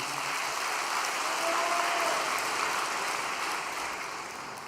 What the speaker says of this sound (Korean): 다시 한번 격려의 박수 보내주시기 바랍니다